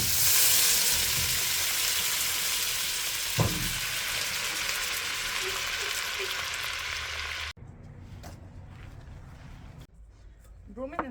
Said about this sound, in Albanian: vendosim gjalpin të tretës.